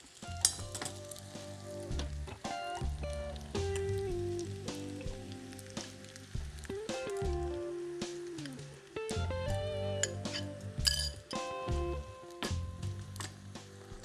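Tongs stirring an egg mixture through fettuccine carbonara with streaky bacon in a pan in a caravan, with soft sizzling and scraping clicks under a steady frying hiss.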